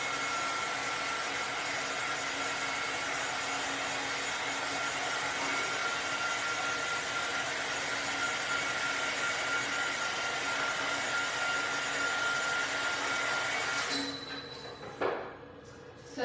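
A heat tool blows steadily to dry a pumpkin craft project for a county fair, a constant close whooshing hum that runs unbroken for about fourteen seconds before cutting off, leaving brief handling noises.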